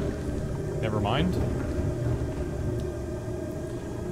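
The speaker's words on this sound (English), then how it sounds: "Oh, and I left my engine running and everything." Steady low rumbling hum of a submarine engine left running in the video game Subnautica at around 1,000 meters deep, continuous and fairly loud, with a brief warbling tone near the start.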